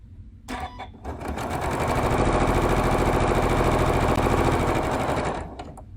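A sewing machine stitches down lines on fabric trimmed with a Tucker Trimmer, giving a loud, close, steady mechanical whir that starts abruptly and runs evenly for about five seconds before stopping.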